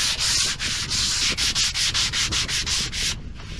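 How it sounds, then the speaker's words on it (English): Light hand sanding of wooden boat stock ahead of routing rabbets: a close, steady rasp made of repeated back-and-forth strokes, about a dozen in quick rhythm, then stopping. "just a light sanding to make sure this is silky smooth for the router base."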